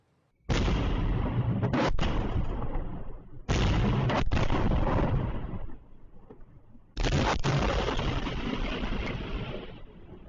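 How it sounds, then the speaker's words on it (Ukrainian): Three heavy, booming blasts roll out one after another as burning military equipment depots detonate in Melitopol, each a sudden loud burst followed by a long rumbling decay, distant and echoing. "А так звучить детонація складів ворожої техніки в Мелітополі."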